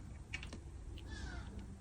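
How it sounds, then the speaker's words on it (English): A crow caws a few times in short, harsh bursts, fairly close, over a steady low background hum with no talking. "that crow is so loud"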